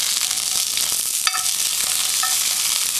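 Food sizzles and fries fast in a pan on a small outdoor survival stove, a steady close crackle with a few light stirring clinks and no talking.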